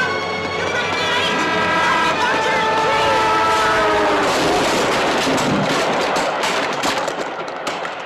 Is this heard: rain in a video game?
no